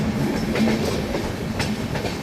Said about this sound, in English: Web 7 locomotive leading the Bareilly Express or Bhuj Bareilly Express